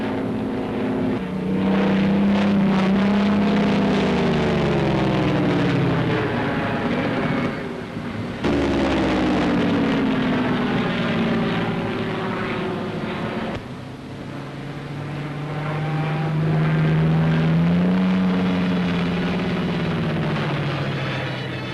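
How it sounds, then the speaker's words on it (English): Droning propeller aircraft engines of military planes setting off on an attack against the Marshall Islands, a steady loud roar whose pitch slowly rises and falls as the planes pass, with no voices. "opened the attack with aircraft, which flew off to look for enemy ships and do as much damage as possible to the bases themselves"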